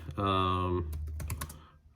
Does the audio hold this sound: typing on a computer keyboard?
yes